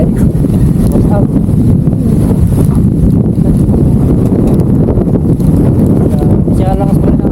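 Strong wind lingering after a typhoon in Pangasinan buffets the microphone in dense, continuous low roaring gusts, with rustling and clattering debris and people talking intermittently beneath.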